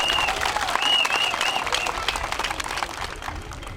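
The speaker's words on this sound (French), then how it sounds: "qu'il faut acclamer très fort" A village crowd applauds and cheers loudly for its chief during a prefect's visit in Bloléquin, dense clapping sustained throughout with voices mixed in and a faint whistle-like tone near the start.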